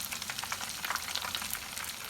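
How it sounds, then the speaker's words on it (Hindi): Marinated whole fish frying on full heat in hot oil in a pan, a steady close crackling sizzle with fine irregular pops and no talking. "फुल आंच पे हमने मछली को फ्राई करना है।"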